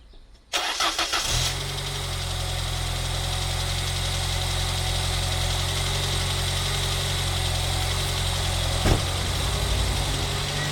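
A Renault 9 engine fires after brief cranking and settles into a steady but slightly uneven idle following an exhaust leak repair, with a low continuous drone and a brief blip near the end, no talking.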